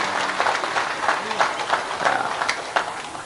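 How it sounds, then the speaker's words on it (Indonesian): An audience at an Islamic religious gathering for a newlywed couple claps for a guest, a lively patter of many hands with sharp individual claps, sustained and fairly loud, with voices mixed in. "Tepuk tangan untuk Pak Apri."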